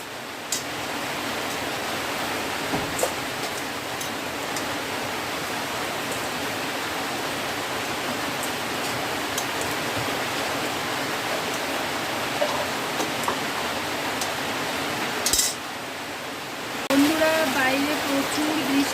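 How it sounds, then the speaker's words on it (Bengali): Heavy rain pours steadily during a storm, a dense, even hiss that carries on for the whole stretch, with a few brief knocks and clatters near the end. "হচ্ছে প্রচুর বৃষ্টি দেখো"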